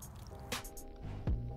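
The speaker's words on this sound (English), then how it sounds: "pour all these fish into a net, let the water flow out and let it catch them" Water drains and drips out of a net full of small fish poured in from a bait pond, with soft splashes, trickles and a squishy slap, quiet and close.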